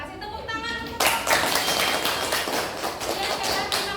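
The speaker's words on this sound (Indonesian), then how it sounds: "Tepuk tangan." A classroom group claps after a student presentation, a burst of hands clapping that starts abruptly and continues as a busy, fairly loud patter, with some voices and taps mixed in.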